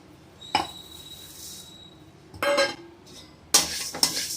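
Fennel seeds dry roasting in a pan for homemade kuzhambu spice powder, a few separate bursts of rattling and scraping with metallic clinks, separated by quiet gaps and a thin background whine.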